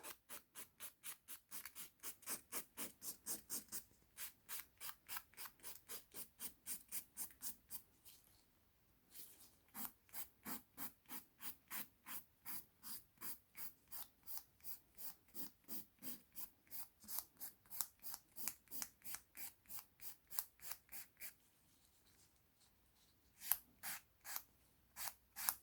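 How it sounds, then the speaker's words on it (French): A nail file rasps back and forth across a nail capsule on a practice finger, in steady rapid strokes with two brief pauses, close and fairly quiet. "je prends ma lime et je la prépare tout simplement comme ça"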